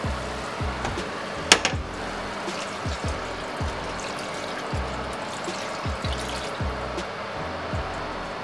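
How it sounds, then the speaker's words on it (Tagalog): Water poured into a pan of chicken, a steady trickling stream running under faint kitchen noise, with a brief sharp clink partway through. "Lagyan na po siya natin ngayon ng tubig."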